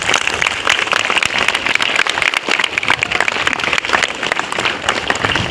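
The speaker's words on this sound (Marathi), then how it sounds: "त्या शेतकऱ्यासाठी जोरदार टाळ्या होते आपल्या सगळ्या" Loud, sustained applause from a rural Marathi audience clapping for farmers during a motivational speech, a dense continuous wash of hand claps with no talking over it.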